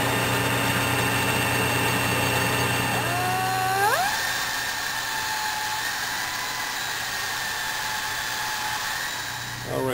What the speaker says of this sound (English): we finished machining the top of the piston that's mushroomed